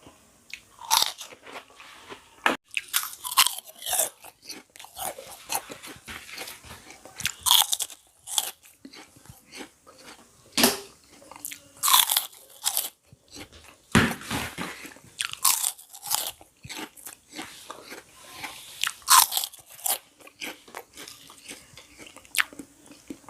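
Corn-flavored rice crackers crunch loudly and close up, sharp crisp bites and chewing repeating in irregular bursts for a long stretch, with no talking.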